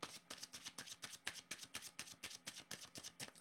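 Tarot cards handled and set down during a reading, giving a steady run of crisp, close card flicks and soft slaps in a quick regular rhythm, fairly quiet and with no talk.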